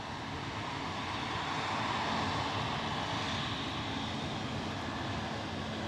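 An EasyJet airliner arriving from Prague comes in to land at Edinburgh Airport, its engine roar a steady, loud broadband rumble that holds for the whole stretch without a break.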